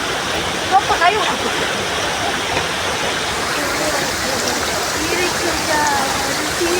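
Stream water rushes at a waterfall picnic spot with a loud, steady, close roar throughout, and faint voices are mixed in at times.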